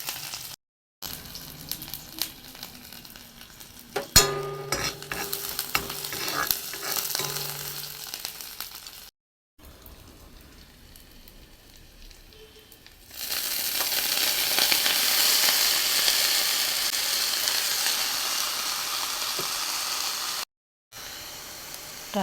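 Onion, ginger and garlic fry in a pan with a continuous sizzle. A few stirring clatters come early, then after a short gap the hiss swells louder and holds steady and close.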